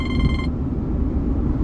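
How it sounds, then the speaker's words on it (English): A mobile phone rings nearby with a short burst of bright electronic tones that stops abruptly, over a busy, noisy background. "That was my phone ringing."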